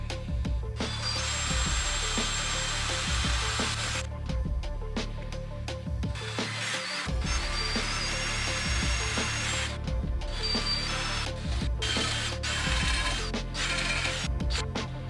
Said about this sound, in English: we're gonna have to drill these out